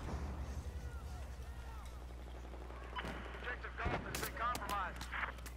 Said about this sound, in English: where the fuck is he shooting me at?